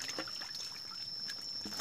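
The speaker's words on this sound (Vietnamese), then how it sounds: "Mình đang xả nước vô" Water trickles steadily into a catfish pond, a soft continuous pour heard from nearby, with no voices over it.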